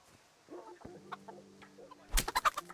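A chicken in the medieval game Kingdom Come: Deliverance clucks in short close calls, then erupts into a rapid burst of squawks at the end.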